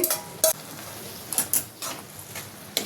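Prawns in hot oil in a pan for a fried prawn curry, stirred with a utensil: scattered, fairly faint clinks and scrapes against the pan over a soft frying hiss, with no talking.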